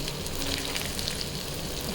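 Bora fritters frying in hot oil give a steady crackling sizzle, faint and continuous throughout, with no talk.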